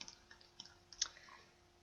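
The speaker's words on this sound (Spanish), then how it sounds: "le doy a la tecla más del teclado numérico" A single key press on the plus key of a computer's numeric keypad gives one faint, crisp click in a quiet room, with a few softer taps around it.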